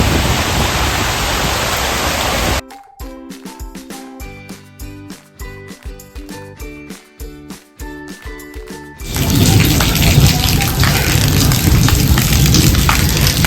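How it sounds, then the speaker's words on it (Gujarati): Rain driven by strong wind lashes down in Palanpur, a loud, dense roar that breaks off for several seconds of music before the downpour returns just as heavily. "દેખો જોરદાર પવન સાથે વરસાદ આવી રહ્યો છે"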